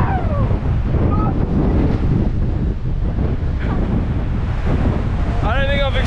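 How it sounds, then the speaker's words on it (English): Strong gusts batter the microphone on an exposed mountain hiking trail after rainfall, a continuous roaring buffet, with brief voices breaking through near the end. "Holy cow! That wind is like straight at us."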